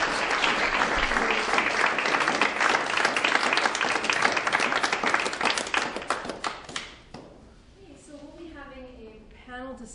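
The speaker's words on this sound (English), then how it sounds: "can we get a round of applause for all of our panel speakers?" A forum audience applauds the panel speakers at an income inequality event, loud dense clapping that tapers off after about seven seconds before a person begins talking.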